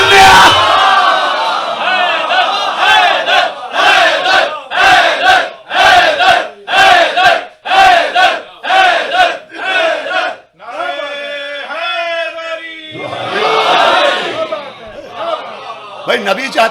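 A crowd at a Muharram religious gathering in Northampton, UK chants religious slogans together in loud, rhythmic bursts. The shouts repeat at a regular pulse, then a held, wavering group cry rises near the end.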